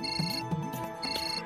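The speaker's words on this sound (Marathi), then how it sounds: "बरकतचा फोन आहे, आलंच" A mobile phone ringtone sounds for an incoming call in a home setting, a repeating electronic melody with steady tones playing alone and fairly loud, with no talk over it.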